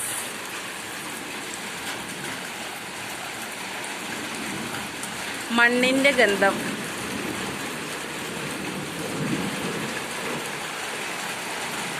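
Long-awaited rain falls steadily outdoors in a dense, even hiss that runs through the whole stretch, with a breeze, while someone speaks briefly near the middle.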